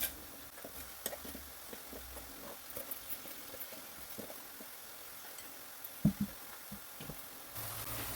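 Onions for a dried prawn sambal sizzle quietly in a pan as a spoon scrapes and turns them, giving soft frying hiss broken by irregular clinks and knocks.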